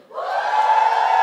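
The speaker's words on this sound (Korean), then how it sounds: "이때 이제 환호성 치는 거야" A church congregation at a Sunday worship service lets out a loud, sustained collective cheer, a dense wall of shouting voices that rises quickly and holds steady.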